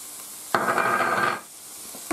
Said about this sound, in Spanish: Y lo dejamos sofriendo